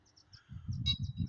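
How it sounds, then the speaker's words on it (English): Small black and reddish-orange finches chirp in short, high repeated notes near a college duck pond, faint and close, with soft low knocking and rustling underneath. "there's a couple finches around here"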